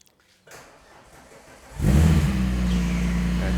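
A VR6 engine in a swap build cranks and catches after a quiet moment, settling into a loud, steady, deep idle close by.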